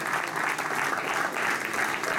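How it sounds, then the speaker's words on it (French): Steady crowd applause at a cycling challenge prize ceremony, honouring a six-time consecutive race winner; dense, even clapping that runs throughout, fairly close and continuous. "on peut l'applaudir"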